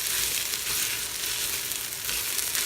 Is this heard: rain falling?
no